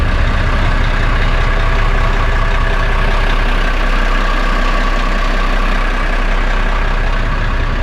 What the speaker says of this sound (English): Oh, both engines going now.